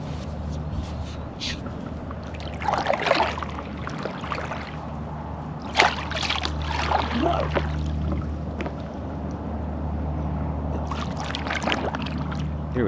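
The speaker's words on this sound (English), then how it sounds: "Make a few paddles, turn me sideways here." Paddle strokes dip into the water from a paddleboard out on open water, making several soft splashes and swishes over a steady low wind rumble.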